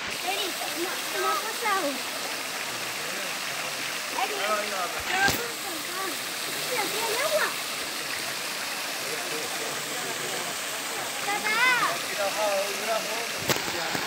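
Mountain stream water runs steadily near the source of the Río Cuervo, a constant close rushing wash with small splashes and a few sharp knocks, and voices chatter faintly in the background.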